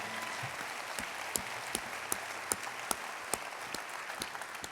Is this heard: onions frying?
no